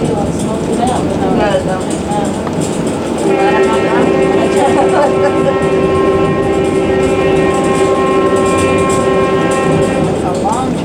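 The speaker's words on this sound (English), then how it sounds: "It's a long train horn, you hear it?" A heritage railway museum train sounds a long, steady horn blast that carries for several seconds over the rumble and clatter of the moving cars, with people talking nearby throughout.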